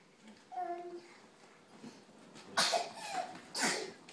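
Two sharp, bursting sneezes from a child, close by, following a brief bit of soft voice.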